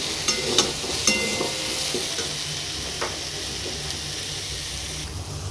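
A spoon works soaked soybeans through pointed gourd curry in a hot pan, making a few scrapes and knocks at first and then easing into a steady hissing sizzle.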